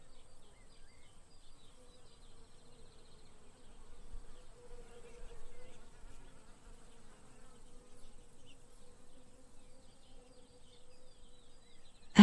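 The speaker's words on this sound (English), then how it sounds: "bees move industriously among the blossoms, gathering nectar." Bees buzzing softly among blossoms in a Tuscan garden setting, a faint, steady insect hum that swells slightly midway, quiet and distant with no voices.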